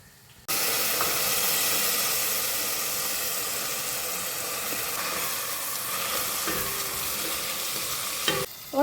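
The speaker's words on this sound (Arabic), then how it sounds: "راح نزيد الرز ونخليه هو ثاني يتقلى شويه" Rice fries in an oily pan for making restaurant-style rice, giving a loud, even, hissing sizzle that starts abruptly and holds steady, broken by occasional scraping stirs.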